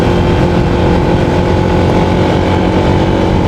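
A motorcycle fording a river on a rough backroad between Santa Cruz, Zambales and Mangatarem, Pangasinan. A loud, steady engine drone and water-rushing roar continue unbroken and close up.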